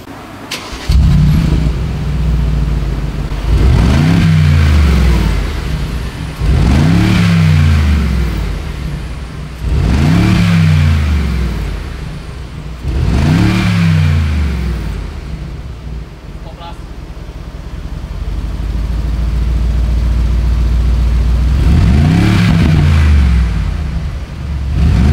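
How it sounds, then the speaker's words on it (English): A 2019 Mercedes-AMG G63 (W463A) with an Akrapovic full exhaust system revs repeatedly, loud and close, each sharp blip rising and falling in a regular series of about six revs. "And that is how the G-Class sounds with the"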